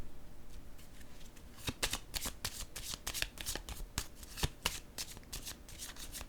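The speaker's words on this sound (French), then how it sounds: "Je vais déposer une carte sur elle." Tarot cards being shuffled and handled in a continuous riffling flutter with sharper snaps as cards are laid down, close and fairly loud with no talking.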